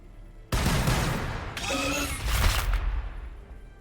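Gunfire erupts in the Warhammer 40K: Battlesector strategy game: a sudden loud burst of shots followed by a dense, continuous fusillade with booming impacts, fading out at the end.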